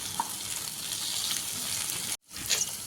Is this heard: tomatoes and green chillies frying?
yes